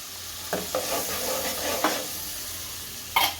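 Onion gravy goes into a hot pan for rajma and sizzles loudly and steadily, with several brief stirring scrapes and clinks scattered through the close, continuous hiss.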